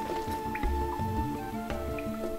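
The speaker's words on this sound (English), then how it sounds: "Blast a hole in the ground, the water goes away" Water gurgling and dripping as it drains away through a blasted hole in the ground in Starfox Adventures, with wet squishy drops and low burbling over steady game music, no talk.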